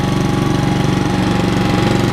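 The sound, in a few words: Honda commercial lawn mower engine running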